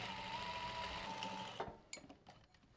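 A sewing machine stitching a drawstring backpack, a steady close mechanical whir for about a second and a half, then stopping and followed by a few soft clicks and handling taps.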